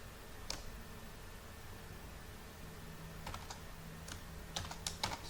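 Keyboard keys tapped while typing Python code, a few scattered clicks and short bursts of keystrokes over a steady low hum, soft and fairly close.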